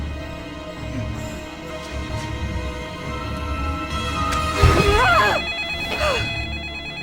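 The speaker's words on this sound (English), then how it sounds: "Fully awake, Linda quickly answered a phone call." A telephone rings in a quiet bedroom at night, its repeated electronic trill sounding moderately loud over a low steady hum, with two brighter bursts toward the end.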